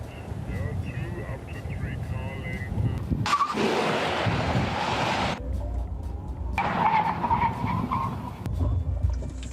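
A NIO electric car in Sport Plus mode pulls away hard, giving a rising whine and broad rushing road and tyre noise in loud surges, with some talk inside the cabin.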